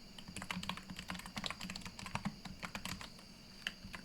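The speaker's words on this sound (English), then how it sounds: "I don't know why it's typing in caps." Quick bursts of typing on a computer keyboard, close and fairly quiet, with irregular clusters of key clicks and short pauses over a low background hum.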